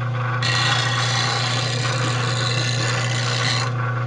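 A bench grinder sharpens a woodturning tool, the motor's steady hum underlying a continuous bright rasping of steel against the wheel for a few seconds, close and loud with no talk.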